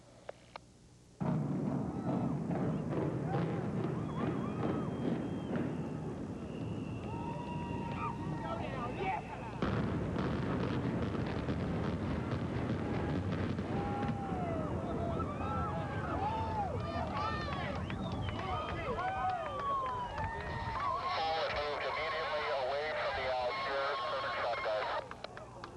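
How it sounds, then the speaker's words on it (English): Demolition blasts from the El Rancho hotel implosion in October 2000 erupt abruptly into a long, loud, rumbling roar that keeps going. Crowd voices and cheering rise underneath it. "then you will hear the blasts, and that will signal the end"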